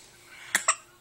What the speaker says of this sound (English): You got the hiccups.